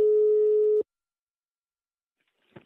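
A telephone call tone sounds as a number is dialed, a single steady electronic beep lasting under a second, followed by silence and a faint click.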